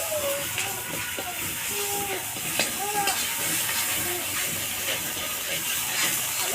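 Ghetkochu leaf paste with a spoonful of sugar fries in a pan, giving a steady, close sizzle and hiss that runs the whole time, with a faint voice now and then above it.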